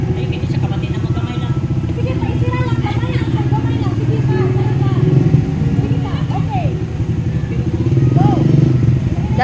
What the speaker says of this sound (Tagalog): Maagi nag-tricycle.